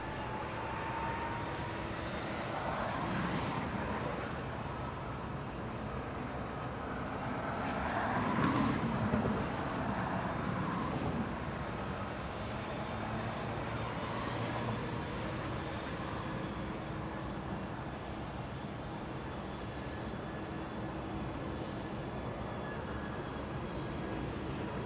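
Boeing 787 Dreamliner aircraft at Los Angeles International Airport: a continuous, loud jet-engine roar that swells and fades as planes move, peaking at about the middle, with a steady airport rumble beneath.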